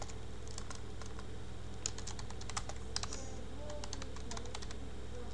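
Typing on a computer keyboard while writing HTML, with scattered crisp key clicks coming in small irregular clusters over a steady low background hum, no speech.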